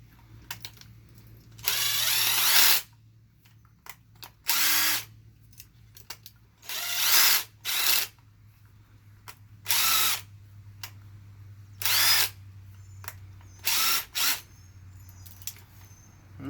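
A rusty bolt is run through a Thread Wizzard thread cleaner, giving about eight separate bursts of grinding, ratcheting mechanical noise, each roughly half a second to a second long with quiet gaps between them, close up and with no talk.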